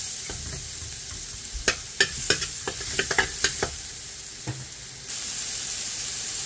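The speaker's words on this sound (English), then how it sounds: "I'm going to go in with some crushed garlic. Give that a good mix." Crushed garlic sizzles in olive oil in a pot while a spoon stirs it, giving a series of sharp scraping clacks over a steady close frying hiss, with no voices.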